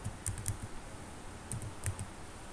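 Fingers typing on a computer keyboard during a computer lesson, heard as two short bursts of quick, crisp keystrokes, fairly close and quiet, with a pause between the bursts.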